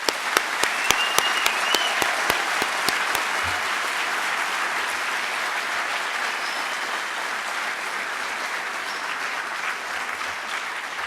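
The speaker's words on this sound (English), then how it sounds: "Let's give them a round of applause." A crowd applauds the graduating Sierra College Fire Academy Class 18-1 at their commencement, steady dense clapping filling a large space with a few sharp nearby claps at the start, continuing for the full stretch without speech.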